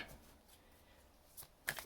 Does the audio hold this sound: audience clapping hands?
no